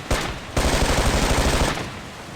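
Automatic gunfire in the tactical shooter Ghost Recon: Island Thunder, a brief burst followed by a sustained rapid rattle of shots, loud and close, then trailing off.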